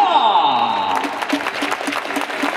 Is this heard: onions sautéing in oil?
no